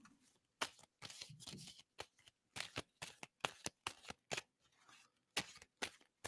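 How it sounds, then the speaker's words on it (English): Tarot cards being shuffled by hand: a series of crisp, close riffling bursts in an uneven rhythm, separated by short pauses. "And so I'm going to stop shuffling."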